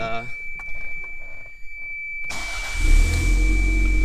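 A car engine cranks and catches, then settles into a steady idle rumble, with a faint high tone and some clicking just before it starts.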